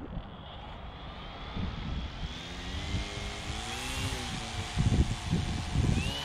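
A Gyroo V6 prototype gyrocopter on its first test flight in a crosswind, its engine droning steadily with a rising, shifting whine, growing louder with heavier rumbling bursts toward the end.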